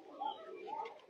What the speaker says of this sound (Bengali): এটা হচ্ছে আমার নর কবুতর।